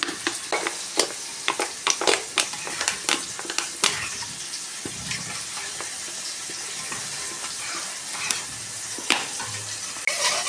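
Tomato and chili sauce being stirred together in a frying pan, a steady sizzle with frequent sharp scrapes and clinks of a utensil against the pan, close and fairly loud with no talk.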